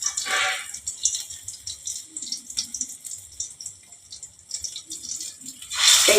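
Poppy seed fritters frying in oil, with hissing, crackling sizzle bursts close by at the start and end and softer bubbling between.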